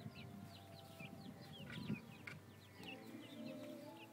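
Chicken clucking softly during an attempt to hypnotize it, with short scattered clucks and faint bird chirps over a low background rumble.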